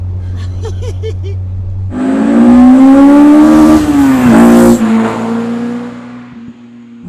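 A loud Renault Twingo engine (K20 swap) idles, then revs up sharply and holds high, with buzzing rattles from vibrating trim before it settles back down.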